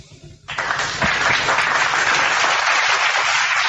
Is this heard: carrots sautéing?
no